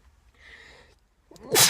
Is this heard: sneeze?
yes